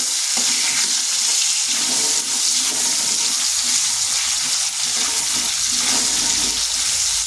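Diced potatoes frying in hot oil in a pan, browning: a loud, continuous crackling sizzle with occasional stirring scrapes, close and unbroken for several seconds, with no voices.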